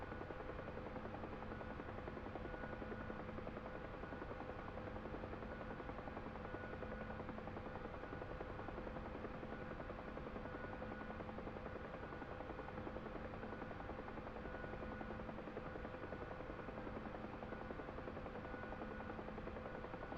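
A helicopter setting down near a cargo ramp by an airport taxiway, heard as a constant, even rotor and turbine drone that holds unchanged and fairly subdued for twenty seconds.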